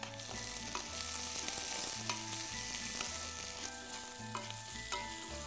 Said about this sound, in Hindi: लौंग और हमारी ये प्याज। फिर प्याज को लाल करेंगे।